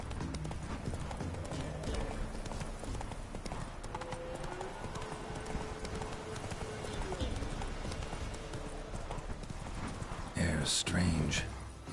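Roach, the horse in Witcher 3, clip-clops in rhythmic galloping hoofbeats under a soft ambient bed, with a brief neigh and louder burst near the end and a voice speaking at times.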